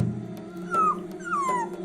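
A dog whimpering indoors, two high thin whines close by over a low steady background hum, with faint clicks in between.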